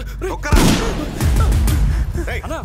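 Gunfire in a Telugu action movie scene starts as a sudden loud blast, then a dense rumbling barrage continues under shouting voices and excited speech.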